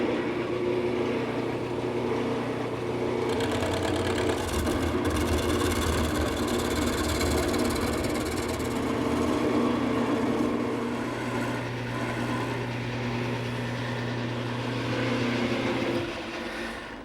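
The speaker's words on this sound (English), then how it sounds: "I'm going to start the turning by using my gouge." A wood lathe spins a piece for a croquet set while a gouge roughs it round, a steady low motor hum with a scraping cutting rasp layered on top, running continuously and stopping near the end.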